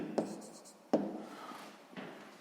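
Pen writing by hand on paper during a maths exercise, a few faint scratchy strokes with soft taps, close and quiet.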